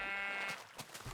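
Pink sheep in the Minecraft video game bleats once, a clear wavering baa lasting about half a second, followed by faint scattered game sounds.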